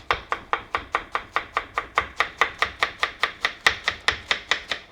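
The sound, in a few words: chopping cabbage with a knife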